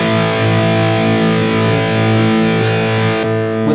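Electric guitar played through a Valeton GP-200 multi-effects unit on a recto amp patch gives thick, high-gain distorted chords that ring out sustained, loud and close, with no voice.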